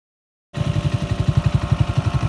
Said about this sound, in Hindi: अभी जाते हैं दोनों बाइक की ड्रैग रेस करते हैं